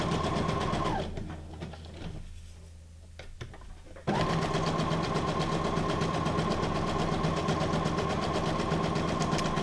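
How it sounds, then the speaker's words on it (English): A Brother SQ9185 computerized sewing machine stitching steadily up close, with a fast even mechanical hum that pauses briefly near the start before resuming continuously to the end. "Number 25 on my brother SQ9185 computerized sewing machine."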